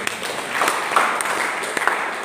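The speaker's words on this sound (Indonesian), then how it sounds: "Berikan tepuk tangan bagi kita." Audience applause during a church sermon in a hall, a steady wash of clapping that swells and holds for about two seconds at moderate distance.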